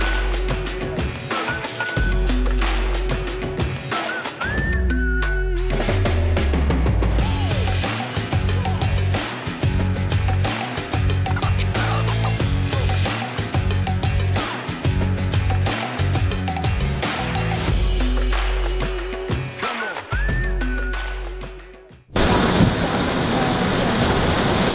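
Heavy rain pours steadily and loudly throughout, with a voice talking beneath the downpour and a brief dip near the end.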